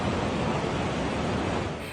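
The overflowing Santa Fe River in San Marcelino, Zambales, rushes through its flooded banks as a dense, steady roar of broadband water noise, loud and unbroken.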